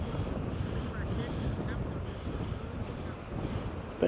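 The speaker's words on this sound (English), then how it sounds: "There's a bit of surf out there." Breezy seaside wind roars steadily over the microphone, mixed with a broad wash of surf breaking offshore, continuous and fairly loud throughout.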